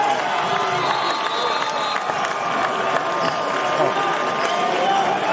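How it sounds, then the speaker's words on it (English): Crowd at a basketball under-20 grand final cheering and clapping in an indoor arena, a dense, sustained roar with scattered shouts, heard over and under a commentator's voice. "That crowd on the other side, wow."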